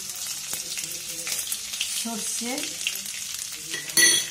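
Chopped ginger hits hot oil for a savory upma tempering, giving a close, bright frying hiss with brief crackles and a spoon clatter near the end; no speech.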